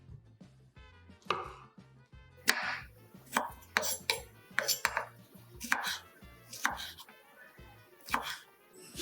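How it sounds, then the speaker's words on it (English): Knife chopping tomatoes lengthwise on a board while making a budget lunch, a steady run of sharp, close cutting taps with a few louder knocks, no talking. "Cut the tomatoes lengthwise."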